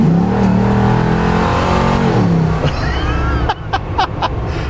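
An off-road truck's LS3 V8 engine revs loudly up close, its tone rising and then falling before a few sharp throttle blips at the end.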